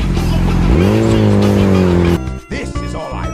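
A speedy vehicle on a test drive, with a loud, close engine roar and a sustained tire squeal that rises and holds before cutting to choppier noise, with voices mixed in.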